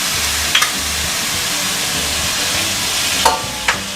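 Onions frying in a pan as tomatoes go in for vada curry, a steady loud sizzle and hiss throughout, with a few brief sharp utensil clinks near the start and end.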